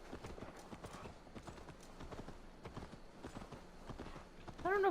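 Horse hooves clip-clop steadily through a town in Assassin's Creed Valhalla, a continuous rhythmic patter of many hoofbeats at moderate level, with a brief louder tonal call near the end.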